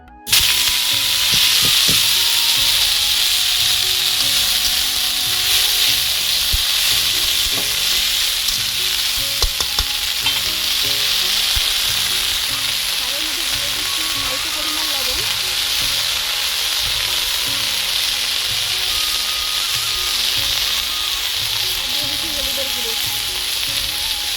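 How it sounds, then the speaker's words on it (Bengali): Washed, chopped leafy greens stir-fried in a little oil in a kadai, sizzling loudly and steadily throughout while being turned and stirred, with no talking. "শাকগুলি যতক্ষণ না জড়ে যায় ততক্ষণ অবধি নাড়াচাড়া করব।"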